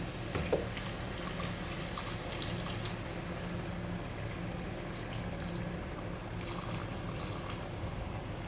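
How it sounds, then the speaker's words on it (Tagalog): Steady running water poured into a cooking pan for a shrimp majboosh, with a continuous broadband wash and a few faint clinks near the start and end. "Lalagyan na natin siya ng tubig."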